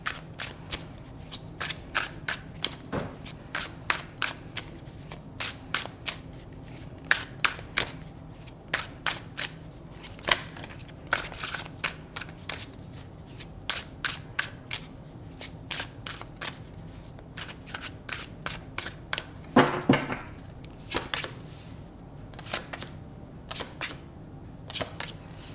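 Tarot cards are shuffled for a reading, with a long run of quick, crisp riffling and tapping strokes close up, steady and rhythmic, with a couple of louder rustling bursts.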